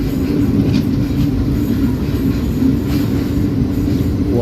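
A train rolls into Vanchi Maniyachi junction station with a loud, steady low rumble of wheels and carriages, a faint squeal rising near the end, and no talk.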